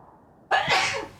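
A person sneezes once, close and loud: a sudden sharp burst that cuts through a quiet background and fades over about half a second.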